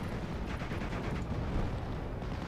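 Continuous rumbling barrage of explosions from a ground attack striking a mortar position in a Company of Heroes style WWII match between 6th Airborne and 12th SS forces, dense low booms with crackling debris, no talk.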